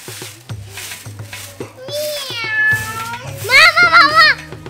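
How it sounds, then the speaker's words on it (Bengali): A cat meows several times, rising and wavering, the last calls loud and drawn out, mixed with a voice and household sounds nearby. "মিয়াও কইছে নিশ্চয় দুধ খাবার লাগা বিড়াল আইছে"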